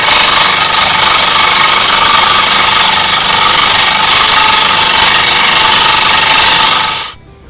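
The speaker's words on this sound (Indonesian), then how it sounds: "kemudian kita potong dengan mesin gergaji potong seperti ini" A power saw cutting a coconut shell gives a loud, continuous harsh buzzing drone. The steady grinding holds for about seven seconds, then cuts off abruptly near the end.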